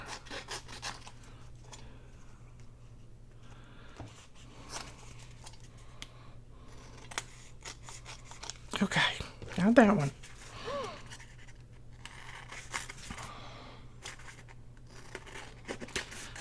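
Scissors gummed up with glue snip and rasp through paper in repeated short strokes, close by and fairly quiet, with a brief spoken comment midway.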